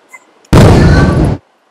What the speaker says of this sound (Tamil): காலையில இருந்து பட்டாசு வெடிச்சுக்கிட்டே இருக்கீங்க, ஒரே சத்தமா இருக்கு.